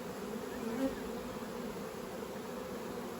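Honeybees hum around an open nine-frame full-depth brood box during an autumn hive inspection, a dense continuous buzz with no speech.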